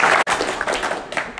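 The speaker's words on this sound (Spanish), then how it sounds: "Cada alumno graduado fue llamado y recibió el aplauso de los presentes." A crowd at a prison graduation ceremony for the CREO program at the Potracancha penitentiary applauds the graduates. The clapping is steady, dense and close, with a brief gap near the start.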